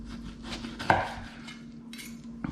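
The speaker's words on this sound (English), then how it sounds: "it's quite a sharp knife, gets through this really easy" A sharp knife cuts through pork crackling with one crisp, loud crunch close up and a few smaller clicks afterward, over a quiet steady hum with no talk.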